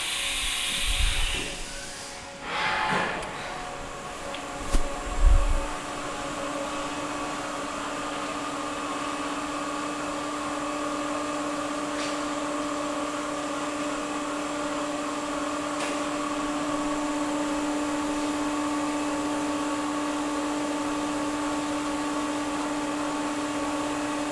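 A 2009 Haas Supermini CNC vertical mill runs a cycle, its spindle at 2,500 RPM giving a steady whining hum after a few brief clunks and whooshes at the start, with faint clicks of machine motion throughout.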